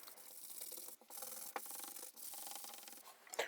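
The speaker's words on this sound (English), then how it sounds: "To make sure it's nice and smooth, I use a fine sanding block to finish it off." Steady back-and-forth rasping of a fine sanding block on a wooden crosscut sled, close and continuous with brief pauses between strokes.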